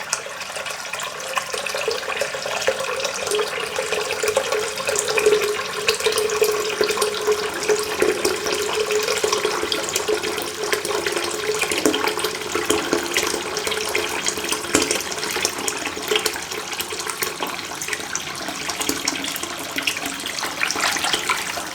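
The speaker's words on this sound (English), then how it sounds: "And then I guess you just fill it with water" Warm tap water runs in a steady, continuous rush, filling a container that holds a RazoRock Gamechanger .68 shaving brush. The flow stays even and close throughout, with no talking.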